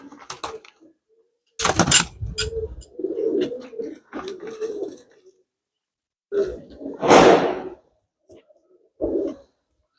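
Pigeons in a loft coo in a few short, low bursts with quiet gaps between, one sharper burst standing out near the middle.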